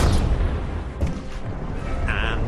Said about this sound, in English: Depth charges are very large explosions.